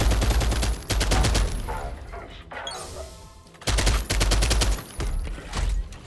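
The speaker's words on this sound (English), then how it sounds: "we can aim down the side with the assault rifle though" Rapid automatic assault rifle fire in the video game Pax Autocratica, loud sustained bursts with a brief lull in the middle before more volleys resume, close and dominant.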